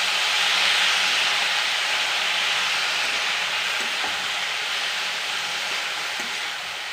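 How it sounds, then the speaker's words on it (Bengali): Shredded cabbage fries in a pan with a continuous hissing sizzle, close and fairly loud. A couple of faint utensil knocks from gentle stirring come through, and the hiss eases slightly at the end. "একটা নেড়ে নেবো আস্তে করে।"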